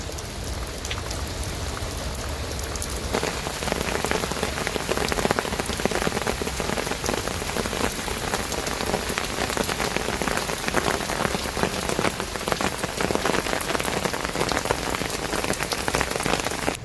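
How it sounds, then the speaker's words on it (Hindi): Heavy rain pours steadily over flooded village fields, a dense, constant hiss of drops striking water and ground that swells slightly after the first few seconds and continues without a break. "बहुत ज़्यादा जोरों की बारिश लगी है"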